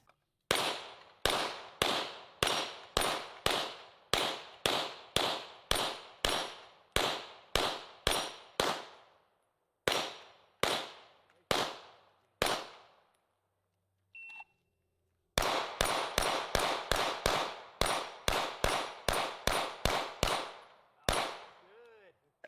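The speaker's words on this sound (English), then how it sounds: "I'm going to show you the footage of us shooting some handguns at this" Handgun shots ring off a steel dueling tree target as a long run of sharp, evenly spaced cracks, each with a metallic ring. A pause comes before a second fast string of shots.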